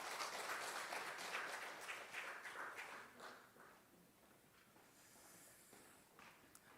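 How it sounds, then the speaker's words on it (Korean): Applause of encouragement from a church congregation during a Wednesday prayer service, a dense patter of clapping that starts fairly loud and gradually thins and fades over several seconds. "격려의 박수하겠습니다"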